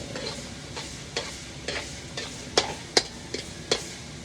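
Food sautés in a pan with a steady sizzle, while a utensil scrapes and taps against the metal in several sharp clinks near the end, close and without speech.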